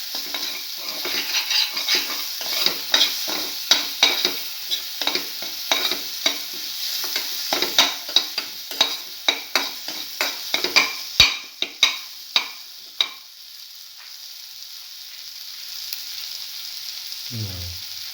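Ingredients for a cinnamon mint egg stew sauté in a pan: rapid, rhythmic scraping strokes over a constant sizzle, close and fairly loud, fading to a quieter hiss near the end.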